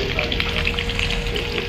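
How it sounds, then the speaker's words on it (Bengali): Potatoes fry in a pan as part of a large cooking setup, a loud, steady close-up sizzle with faint crackles throughout. "আলু ভাজা চলছে এখন।"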